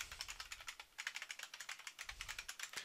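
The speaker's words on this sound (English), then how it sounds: "So I can type other things" Quick, steady keystrokes on a computer keyboard patter in an uneven run of light clicks, close and fairly quiet, with no talking over them.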